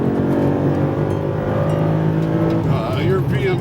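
An S197 Mustang GT with a Coyote V8 and bolt-on modifications accelerating hard, a loud sustained engine drone that climbs steadily in pitch from inside the car, with voices talking over it near the end.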